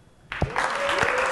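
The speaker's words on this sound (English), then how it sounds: "Please hold your applause." An audience at a university industry forum lecture breaks into applause that swells quickly and keeps going steadily, dense and fairly close.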